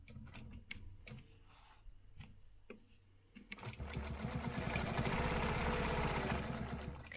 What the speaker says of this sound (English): let me finish stitching it first and then you'll be able to see what I'm talking about